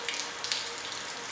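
Water streaming from a portable, self-contained, propane-fired on-demand hot water system, a steady hissing rush with a few small splashes, close and fairly soft.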